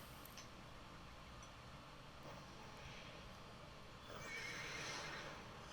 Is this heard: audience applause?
no